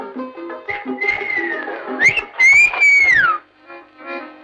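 Someone in a Tamil comedy film scene whistles a short, bright tune, with a wavering phrase that rises and falls, then a sharper swooping note near the end, clear and close with no talking.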